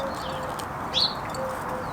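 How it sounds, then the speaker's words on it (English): Birds call outdoors, a single short chirp rising briefly above steady background noise, moderately distant, with faint cooing tones. "The birds here are so loud."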